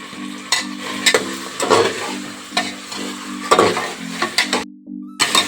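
Chopped tomato with ginger-garlic paste fries in hot oil for biryani, a steady close sizzle broken by repeated scraping stirs and light clinks of a spoon against the pan.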